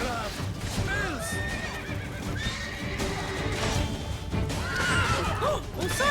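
A horse in The Witcher 3: Blood and Wine gives a loud whinny among clip-clopping hooves, with someone talking over the game sounds.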